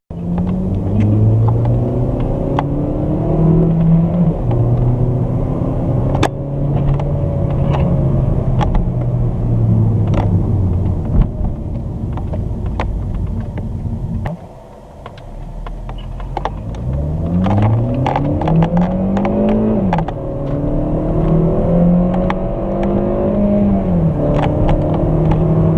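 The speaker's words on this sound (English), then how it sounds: "you're able to hear the engine a little bit more" A new car's engine and exhaust rumble steadily from inside while driving, a deep, loud drone that briefly drops off, then climbs again in rising revs as the car accelerates through the gears.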